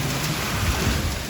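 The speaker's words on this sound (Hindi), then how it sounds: "इतनी तेज हवा चल रही है और उसके साथ बारिश" Heavy rain lashes down in a fierce storm with strong wind whipping through the trees, a loud, continuous broadband roar with no break.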